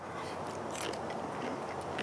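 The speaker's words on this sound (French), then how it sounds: "Quand je le mets dans la bouche, il croque comme ça." Crisp, juicy fresh food is bitten and chewed close to the mic, with soft crunches and wet crackles spread over a couple of seconds at low volume, no voice present.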